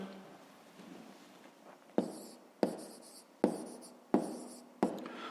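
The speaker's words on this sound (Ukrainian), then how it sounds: "Ну що ж, записуємо тоді." Pen strokes writing down numbers for a fifth-grade math exercise, five sharp scratchy bursts at a steady pace after a quieter stretch, close and alone.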